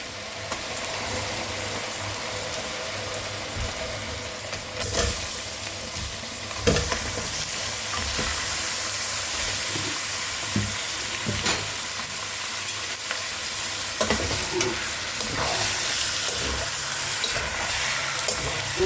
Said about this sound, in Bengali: আমার এটা ভাজা হয়ে গেছে, এবারে এর মধ্যে মাংসগুলো ছেড়ে দেবো